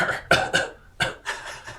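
A voice imitates a few short, rough coughs in quick bursts, close to the microphone, with brief pauses between them.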